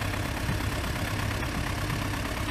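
A concrete mixer truck, stuck at a foundation pour, idles with a steady low diesel rumble and rattle, continuous and close, with no voices over it.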